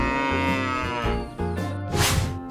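A cow moos loudly and up close in long, drawn-out bellowing calls that waver in pitch, with a brief break before a rougher final low.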